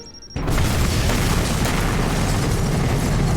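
A bomb blast in a Torchwood episode: after a brief quiet moment, a sudden loud boom erupts into a sustained, dense roaring rumble that fills the rest of the clip.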